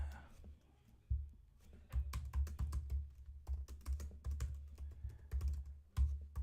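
Close, quiet typing on a computer keyboard while writing code in the Carbon programming language, with irregular bursts of clicking keystrokes and short pauses between them.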